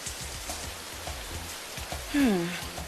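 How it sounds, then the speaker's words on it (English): Acid rain pours down in a fast-blowing cartoon storm, a steady hiss of falling drops throughout, with a voice briefly rising over it near the end. "The storm sure blew in fast"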